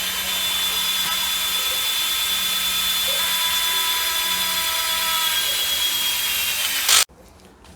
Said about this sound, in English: I drill 4 holes in here